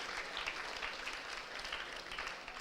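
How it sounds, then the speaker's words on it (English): An audience applauds at an inaugural ceremony of a student induction program, a steady wash of many hands clapping together with no pauses and no speech on top. "please clap for her again"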